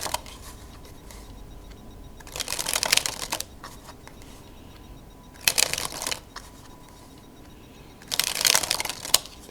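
A Queen's Slipper deck of playing cards is dribbled three times, each pass a quick burst of fluttering riffles separated by quiet pauses, close and fairly soft.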